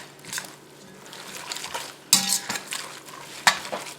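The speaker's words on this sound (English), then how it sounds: "And the recipe also calls for an egg. Let me just mix that up." An egg is beaten for baked spaghetti, quick scraping and clinking strokes of a utensil against a bowl, close and intermittent, with a couple of sharper knocks.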